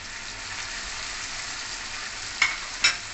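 Tomato and cashew fry with lightly browned onion in a pan, a steady close sizzle with two brief sharp scrapes of stirring near the end.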